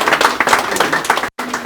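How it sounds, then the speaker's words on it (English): An audience at a bus handover ceremony for the Gambia Prison Service claps in a brief, dense round of applause, close and fairly loud, with a short cut near the end. "Can we give a round of applause, please?"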